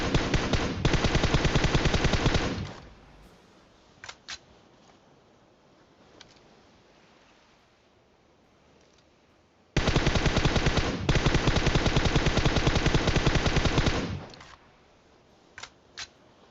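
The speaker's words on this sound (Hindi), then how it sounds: "जितनी गोली चलानी थी सारी चला दी" Rapid automatic gunfire in a video game comes in two long sustained bursts, loud and close, separated by a quieter stretch with a few scattered single shots and clicks.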